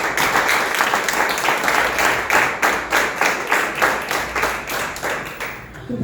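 Rhythmic unison clapping from a church congregation welcoming a woman preacher at an evening service, loud and close with a steady beat throughout.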